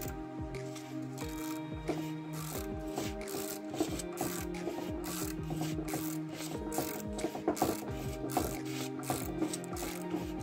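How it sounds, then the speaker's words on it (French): A nut is screwed by hand onto a car shock absorber assembly, giving repeated small metallic clicks and ratcheting scrapes at an uneven rhythm, close and moderately quiet, with no talking. "je suis justement en train de visser l'écrou"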